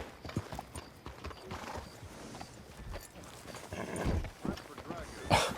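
A horse in the video game Red Dead Redemption 2 gives off steady clip-clop hoof steps and a short whinny near the end, softly heard beneath someone talking.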